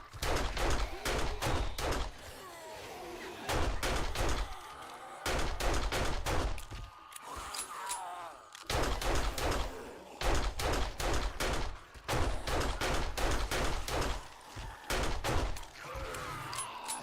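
A 9mm pistol fires in 7 Days to Die, rapid loud bursts of shots in repeated volleys with brief pauses between them, close and dominant throughout.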